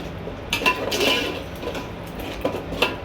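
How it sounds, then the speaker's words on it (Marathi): A metal lid set onto a cooking pot of chicken gravy with a few close, bright clinks and clanks, then a quieter rattle of a utensil against the rim. "परत आपण ह्याच्यावर झाकण ठेवायचं।"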